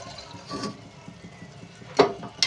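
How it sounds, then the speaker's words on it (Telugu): A glass of milk poured into a ridge gourd curry in a pan, a short close liquid splash and trickle with a soft clink at the end. "ఒక గ్లాస్ పాలు అయితే పోసాను"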